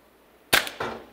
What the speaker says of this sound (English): shoot a bunch of targets at the screen and see what score you get